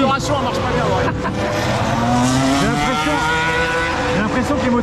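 Race car engines in an F1 video game scream and shift pitch up and down continuously, loud and dense, with people talking over the revving.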